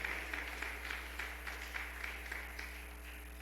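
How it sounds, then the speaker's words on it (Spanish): A church congregation applauding during a sermon on keeping harmony in the church, a steady wash of many hands clapping at moderate distance, continuous and even throughout with a faint low hum underneath. "Aplauda a Jesucristo."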